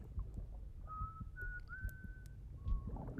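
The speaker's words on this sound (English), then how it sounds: "you get to see Mads Mikkelsen whistling at a baby" A video game character whistles at a baby, a few soft, thin notes, a short rising tune and a brief final note, over faint background noise.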